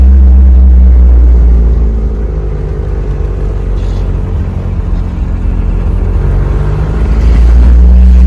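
Loud, close engine drone and road rumble from a 1981 VW Rabbit mk1 running and driving, steady throughout with a slight dip and swell in level, no talking.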